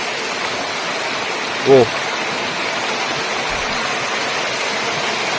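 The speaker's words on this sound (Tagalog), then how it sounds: "Ayan yung nilalabasan ng tubig." Water rushes steadily out beside rocks and a cemented edge, a constant broad hiss like a small waterfall or stream, close and fairly loud, with a brief voice heard once.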